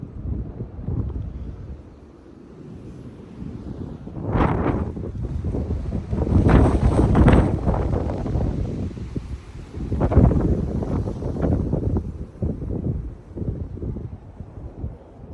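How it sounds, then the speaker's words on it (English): Strong wind of about 50 mph roars across a snowy, freezing mountain summit area, buffeting the microphone in loud surging gusts that swell and fade, with no one speaking. "The wind's blowing about 50 miles an hour."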